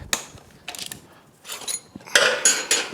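Close ratchet clicks come in several short bursts as a mechanic works the axle bolts loose on a Honda Grom motorcycle, each burst a few seconds apart.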